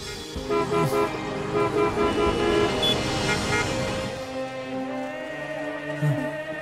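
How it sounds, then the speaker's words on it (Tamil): Car horns honk over and over in a heavy traffic jam, with several overlapping toots of different pitches over a dense rumble of idling engines, loud and close. "heavy traffic jam, it's a mess"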